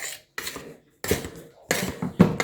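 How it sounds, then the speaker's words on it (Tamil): A spoon stirs roasted urad flour into batter in a bowl, making four short bursts of scraping and clinking separated by brief pauses. "2 கரண்டி வறுத்த உளுத்தம்மா சேர்த்து நல்லா கலக்கணும்"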